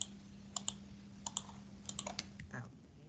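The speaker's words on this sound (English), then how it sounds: "Okay, I'm typing, but why?" Quiet computer keyboard typing during an online class, a few scattered key clicks in short bursts over a steady low hum, with no talking.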